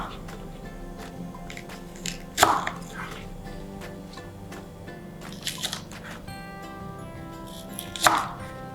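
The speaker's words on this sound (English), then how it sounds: "I'm just going to cut the ends so that it gets cooked easily" A knife cuts the ends off a vegetable on a board, with two crisp, crunchy chops a few seconds apart and a softer cut between them, set against a quiet room.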